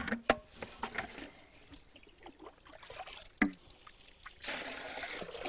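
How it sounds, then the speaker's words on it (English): Water is scooped out by hand and trickles back, giving a few sharp splashy scoops followed by soft dribbling and pouring, close by and moderately quiet, with no talking. "is scooping out the water"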